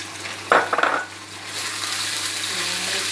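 Sliced pork hits a hot pan with garlic and ginger for Chinese fried noodles, a few sharp clatters of utensil on pan followed by a steady close sizzle, with no talk.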